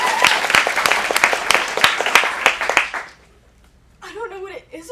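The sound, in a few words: audience applause for an actor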